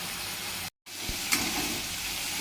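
Roasted, ground fenugreek and cumin added to a simmering sour fish roe curry with mango, giving a steady close sizzle with a brief gap and a faint stirring tap.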